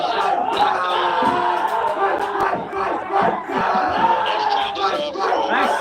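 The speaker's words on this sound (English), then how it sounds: "And the crowd erupts." A stadium crowd roars and cheers after a goal at a Durand Cup football match between Bodoland FC and ITBP FT, a dense, sustained wall of voices with excited shouts rising over it throughout.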